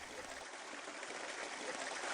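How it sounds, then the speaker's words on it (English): Creek water flowing at the headwaters of Marsh Creek near Mount Diablo, a steady close trickling rush with no break and no talk. "So we're here up in the headwaters of Marsh Creek"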